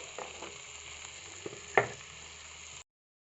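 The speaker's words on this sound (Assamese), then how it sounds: "পিঁয়াজখিনি একেবাৰে ৰঙচুৱা হোৱালৈকে ভাজি ল'ম।" Sliced onions sizzle steadily in a hot pan with salt and turmeric for a dry fish chutney, a close, even crackle broken by a few clinks of stirring and no talking.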